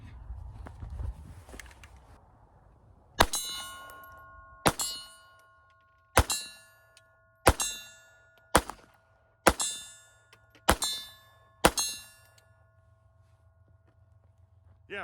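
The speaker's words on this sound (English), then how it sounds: "Let's go ahead and shoot some down range and see how it looks on the steel." Seven sharp .32 ACP shots from a Walther PPK loaded with Norma ammunition, each followed by a bright metallic ring off steel targets downrange. The shots come evenly spaced after a quiet start, loud and close.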